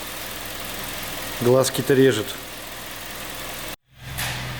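A Kia Sportage 3 with a G4KD engine, rebuilt after scoring and a knocking fault and flashed to Euro-2, idles with a steady low hum; someone speaks briefly over it, and the sound cuts out for a moment before the idle resumes.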